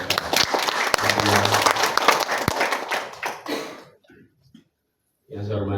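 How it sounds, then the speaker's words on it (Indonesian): Audience applause at a book launch, a full burst of clapping that builds and then fades into a few scattered claps and a cough before silence, followed by a voice starting to speak. "Boleh kita beri tepuk tangan untuk mereka"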